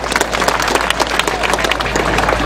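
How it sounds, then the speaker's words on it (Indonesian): An audience at a community gathering applauds three doctors with a lively patter of close claps over a steady low hum, and some faint voices mixed in. "Mari kita berikan tepukan kepada ketiga-tiga doktor ini."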